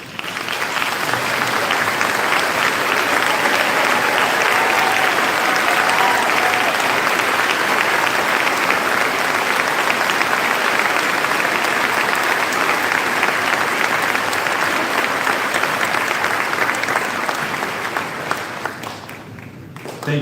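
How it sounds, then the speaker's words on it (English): A graduation audience applauds school staff in a long, dense round of clapping that holds steady for about twenty seconds before tapering off. "please stand to be recognized with a round of applause"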